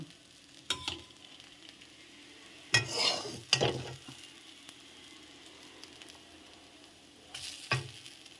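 Radish stalks frying in a pan, mostly a low, steady sizzle with a few brief bursts of stirring and spatula scrapes near the start and end.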